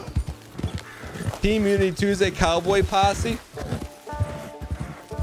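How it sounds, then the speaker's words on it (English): Horse in the video game Red Dead Online snorts and whinnies amid clip-clop hoofbeats, heard under near, continuous talk from players throughout the short stretch. "It's making horse noises."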